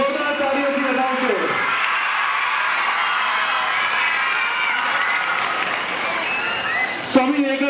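A crowd at a charity donation event breaks into sustained applause and cheering, a dense continuous wash of clapping with voices mixed in, lasting throughout.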